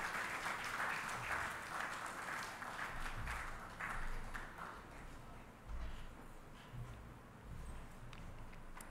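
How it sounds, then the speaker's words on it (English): An audience at a university inaugural lecture applauds steadily as the lecturer approaches the podium, a sustained dense wash of clapping with a few louder bursts and faint knocks underneath. "please could we give him a round of applause as he approached the"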